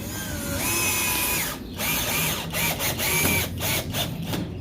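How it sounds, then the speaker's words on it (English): A cheap drill bores a pilot hole in wood for a budgie flight cage, its motor whirring loudly and steadily with a few brief dips and stutters as the bit bites. "you drill a pilot hole."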